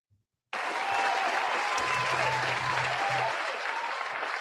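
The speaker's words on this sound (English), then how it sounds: "You can hear the cheering, right?" After a brief silence, a played cheering-crowd sound effect bursts in: loud, sustained applause and crowd roar for a live game-day fan show, steady to the end with a faint low voice underneath.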